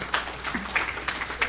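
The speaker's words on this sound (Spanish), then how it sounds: "Un aplauso para ustedes también" A small church congregation gives scattered, sparse applause for the singers, a handful of distinct claps repeating irregularly at moderate loudness.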